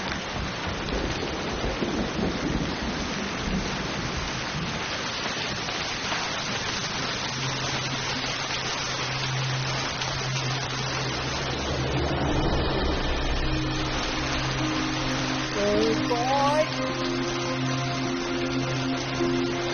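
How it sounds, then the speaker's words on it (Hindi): Steady heavy rain hisses throughout, with a low rumble of thunder rolling in partway and a few faint tones drifting over it. "ओ बारिश हो रही है। मौसम खराब है।"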